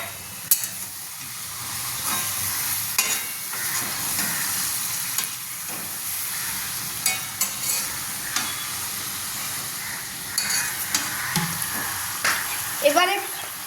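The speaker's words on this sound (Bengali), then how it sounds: "ভালো করে নাড়িয়ে একটু করে মিক্স করে নিতে হবে।" Lote fish curry is stirred and mixed in a pan, a continuous close sizzle with repeated scraping and clinking strokes of the spoon throughout, with no talking.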